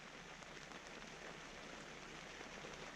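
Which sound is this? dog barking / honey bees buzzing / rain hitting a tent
rain hitting a tent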